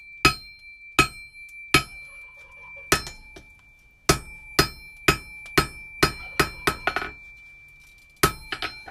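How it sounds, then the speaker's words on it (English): A bladesmith hammers steel at a forge, about fifteen sharp ringing metallic strikes at irregular intervals, some in quick runs, close and clear with no talking. "Rough work. Hammer time."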